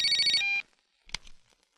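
Telephone rings with an incoming call, a bright electronic ringtone burst that cuts off sharply, followed by a faint brief click or handling sound in near silence.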